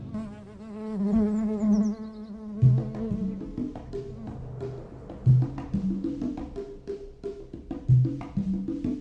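Bees buzz steadily in a continuous insect drone, joined by recurring low rhythmic tones that swell periodically over the hum.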